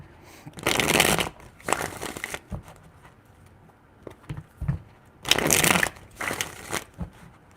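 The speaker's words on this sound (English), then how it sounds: "Four shuffles." Tarot cards are shuffled in several bursts of riffling, each lasting about a second, with quieter pauses and small handling sounds between them.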